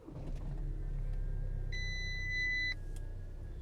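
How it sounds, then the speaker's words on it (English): An Audi A3 is started inside a quiet car, with a low engine rumble beneath a steady chime that plays for about a second and then stops. "start the car"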